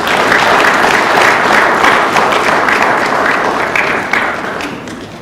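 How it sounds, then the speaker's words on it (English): Sustained applause from a conference audience welcoming a panelist, dense and steady at close range, tapering slightly near the end. "a big round of applause for Dr. Kabango Akufuna"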